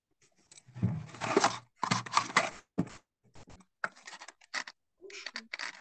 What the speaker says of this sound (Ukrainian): Хто там шурхотить?